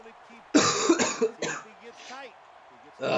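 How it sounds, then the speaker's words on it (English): Several harsh coughs in quick bursts, close and loud, with throat clearing between them and another cough at the end. "Excuse me while I cough."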